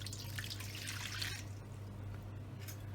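Warm water pours into a bowl holding dried yeast and white sugar, a close, steady trickle and splash that thins out halfway through into faint drips.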